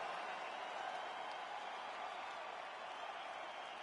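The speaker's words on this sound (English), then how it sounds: "So the crowd voicing its appreciation after that round." UFC arena crowd applauding and cheering after a round, a steady dense roar of clapping and voices filling the space without a break.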